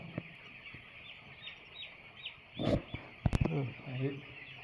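Soft, repeated cheeping and clucking from young poultry chicks in a brooder, with a few louder bursts of handling noise and brief talk partway through.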